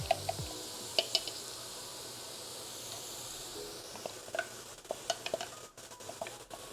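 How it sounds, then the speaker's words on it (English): Carrots and onions frying for Bolognese sauce, a soft steady sizzle with occasional sharp taps and scrapes from stirring and utensils. "We're just gonna fry this up."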